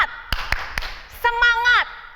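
Children's hand claps in a steady rhythm at an Indonesian kids' church session, four distinct claps followed by a voice chanting, the clapping sharp and close.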